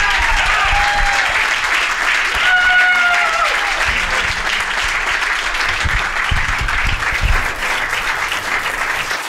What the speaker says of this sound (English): So let's everybody give a round of applause for John Cabello.